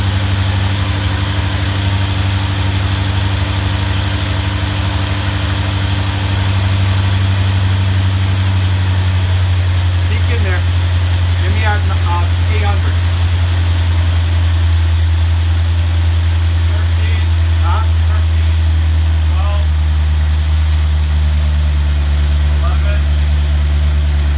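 A 1984 C4 Corvette engine with a new starter and distributor idles steadily with a low, constant rumble throughout, while people talk intermittently nearby during fuel system troubleshooting.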